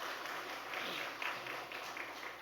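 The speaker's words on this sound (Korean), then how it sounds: "좋은 아들, 딸 허락하신 하나님께 영광의 박수 다시 한번 하겠습니다" A church congregation at a Korean Parents' Sunday morning service applauds together, the clapping faint and somewhat distant, a steady patter swelling in soft waves with no one speaking over it.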